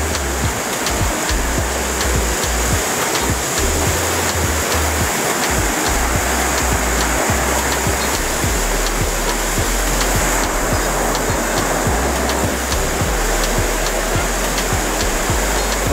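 Tagbilat Falls waterfall pouring steadily, a loud, continuous broadband roar of rushing water that stays even throughout, with no voices.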